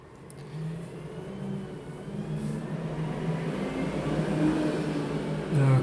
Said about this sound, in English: Recycling trucks hard at work.